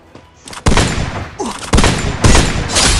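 Gunfire in a battle royale video game comes as loud, sharp bursts: a few close shots, then heavy repeated volleys cracking in quick succession, with no talk over them.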